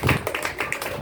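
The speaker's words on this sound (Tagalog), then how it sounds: "Palakpak muna sa ating Panginoon." A church congregation claps in a brief burst of applause, sharp overlapping hand slaps at close range with no talking.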